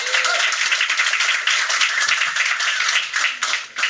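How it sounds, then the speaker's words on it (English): Applause for a guest at a city council campaign kick-off event, a dense, steady wash of many hands clapping close by, sustained evenly throughout with no voices standing out. "A round of applause for Rick"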